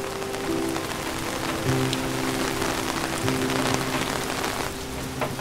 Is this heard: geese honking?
no